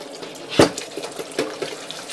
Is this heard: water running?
yes